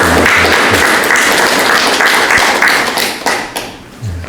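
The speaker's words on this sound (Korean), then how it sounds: "한번 격려하는 의미로 박수를 좀 뜨겁게 한번 더 쳐드렸으면 좋겠습니다" A church congregation applauds its choir warmly after a hymn, a dense, loud wash of many hands clapping that thins and fades toward the end.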